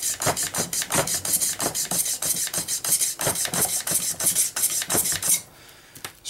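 Rapid repeated scrubbing strokes of a brush working solvent over an M14 rifle gas piston, close and steady with a rasping rhythm, then stopping near the end.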